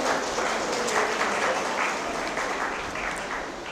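An audience clapping at a Rotary Club installation ceremony, a dense, even round of applause that gradually tapers off toward the end.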